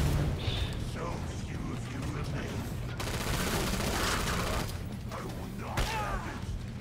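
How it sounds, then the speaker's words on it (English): Mortar barrage explosions in a video game boom and rumble in a dense, continuous volley, loud and close, with a player's voice briefly audible over the blasts. "it's the mortar barrage"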